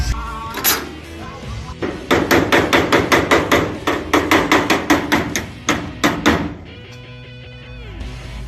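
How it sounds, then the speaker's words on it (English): A hammer smashes sheet metal into a shaping form for a custom car body panel, with loud, ringing metallic blows. They come singly, then in a fast, steady run of about a dozen strikes, then a final few. "we're gonna see how tough it is as I try to smash some sheet metal into it"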